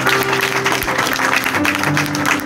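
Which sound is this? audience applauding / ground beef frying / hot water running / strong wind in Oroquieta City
audience applauding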